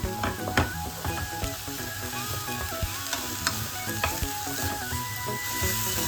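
Marinated paneer tikka cooks in a pan on the stove, giving a steady loud sizzle with crackling pops and the occasional scrape of stirring, with no voices.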